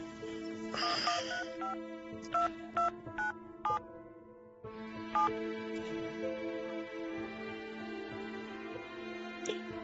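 Phone tones during a call attempt, with a series of short beeps and tone pulses heard close over a steady hum, and a long continuous ringing tone after a brief gap.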